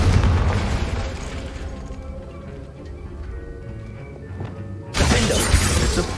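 A Confringo spell explodes in the Hogwarts Legacy video game with a loud shattering boom that fades into a rumbling tail before a second loud burst of crashing debris, with no voices.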